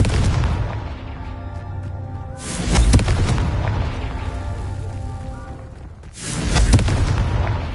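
Two loud, booming blasts from the Confringo blasting spell go off in a game, each a broad burst of about half a second followed by a long rumbling tail.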